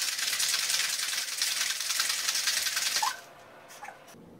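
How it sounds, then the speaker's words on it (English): A cocktail shaker holding an Irish Trashcan cocktail with Red Bull is shaken hard, a loud, fast, even rattle of ice for about three seconds that stops abruptly, followed by a few faint clinks. "let's go ahead, go ahead and shake this up"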